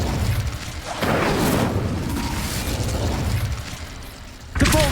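A fire spell cast in the Hogwarts Legacy video game: a burst of whooshing, crackling flame that flares near the one-second mark and roars steadily for a few seconds, then a sharp new blast hits at the end.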